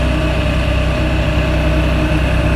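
Boat outboard engine idling steadily on Lake Huron, a constant low drone with a faint hum and no change in pace throughout, close and fairly loud with no talk over it.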